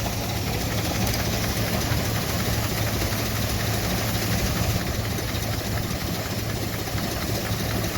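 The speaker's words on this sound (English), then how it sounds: "Not sure which kind of which brand of engine that is" A steady antique engine at a threshing bee runs at a low, even idle, a constant mechanical drone with no voices.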